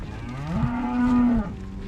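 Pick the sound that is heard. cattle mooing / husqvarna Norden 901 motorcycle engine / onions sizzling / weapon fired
cattle mooing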